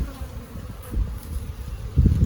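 Honey bees buzz steadily at an open beehive, a close, dense drone that swells louder toward the end.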